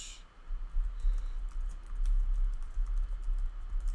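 Steady, close typing on a computer keyboard, a continuous run of soft key taps over a low background hum, with no voices.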